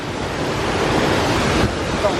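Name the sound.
waterfall in a Bavarian gorge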